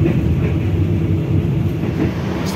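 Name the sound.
Jaka Tingkir passenger train running on rails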